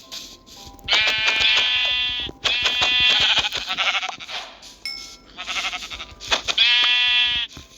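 Sheep bleat in a hardcore-mode video game, several long wavering calls coming one after another in bursts, loud and close with short pauses between them.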